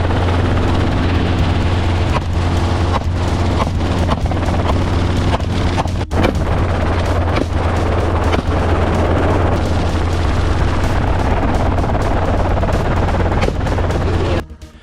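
A helicopter on a wild boar hunting flight passes close by, its loud rotor drone steady and continuous with rhythmic thumping, fading slightly at the very end.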